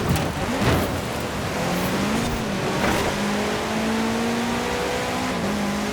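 A car engine races in Forza Horizon 4 on a winter course, roaring loud and close with rising and shifting revs and gear changes, a second engine audible underneath.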